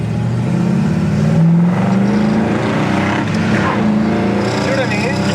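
1966 Pontiac Le Mans with dual exhaust idling, a steady deep low rumble close by with slight revving swells, while people talk over it.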